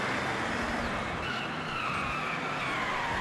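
A powerful car engine roars steadily in Forza Horizon 6, with a tire-screech tone rising partway through; the sound is loud and continuous, with no voices.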